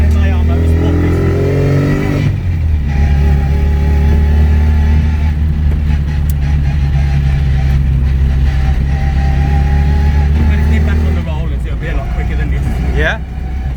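A souped-up classic MINI with MAR Motorsport pistons drives around the block, its engine droning loud and close with a rising rev near the start and another toward the end, while people talk inside the car.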